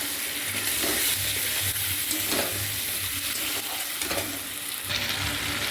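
Ginger-garlic paste and onion frying in a pan, a loud continuous sizzle with rhythmic stirring strokes throughout, no talk.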